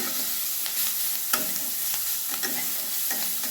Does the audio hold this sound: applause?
no